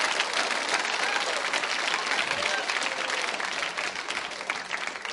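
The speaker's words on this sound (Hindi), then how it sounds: "उनके सम्मान में एक बार तालियां जोरों से बजाइए आप" Loud, sustained audience applause at a school quiz show, honouring Sachin Tendulkar, a dense steady wash of clapping that holds evenly throughout with faint crowd murmur beneath.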